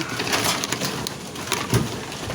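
Racing pigeons arriving at a loft give soft, close cooing and rustling over a steady background hum, with a brief knock partway through.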